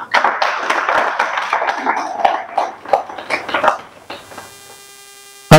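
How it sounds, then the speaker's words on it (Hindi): Audience applause welcoming Mr. Vajinder, the event's organizer, to the stage at a Hindi-language public gathering: a dense burst of clapping for about four seconds that thins out and fades over a steady electrical hum, with a sharp knock at the very end. "मैं उनको मंच पे आमंत्रित करता हूं तालियों के साथ"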